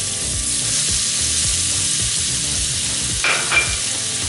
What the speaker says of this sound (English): now I'm going to add a couple tablespoons of butter into the mix here.